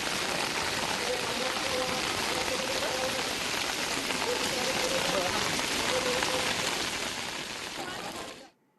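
Heavy downpour in Pandharpur, a steady dense roar of rain on surfaces that holds continuously before cutting off at the end.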